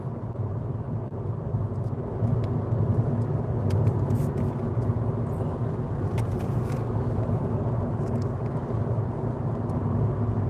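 An old car drives on a cold night, its steady engine and road drone heard from inside the cabin, continuous and fairly loud with faint scattered clicks above it.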